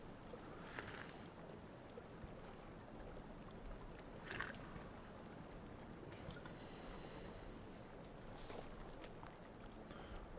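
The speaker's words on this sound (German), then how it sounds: "Hier vor uns ist ein schöner kleiner Bach." A small stream in the Sons of the Forest survival game, a steady broad wash of flowing water mixed with wind-like rushing, with a few faint splashes or knocks over the even background and no voices.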